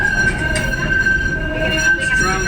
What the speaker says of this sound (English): traveling on a tramway that was built in 1925 in Melbourne, Australia